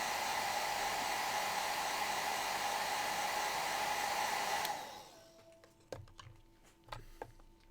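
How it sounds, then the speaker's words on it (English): A hairdryer blows steadily and loudly on gloss varnish on a painting, then switches off after about five seconds, leaving quiet room noise and a few soft knocks. "Now let's just give that a little blow with the hairdryer."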